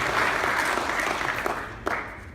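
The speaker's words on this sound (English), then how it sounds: "Please give them all a big round of applause" A brief burst of crowd applause at a service club changeover ceremony, dense clapping that fades slightly, with a sharp clap or knock standing out near the end.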